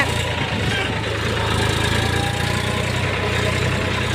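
A tractor engine idles nearby with a steady low rumble and even, throbbing rhythm, unchanging throughout.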